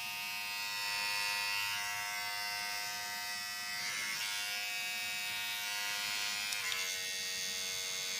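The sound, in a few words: Braun Series 9 AIO9545 electric grooming kit running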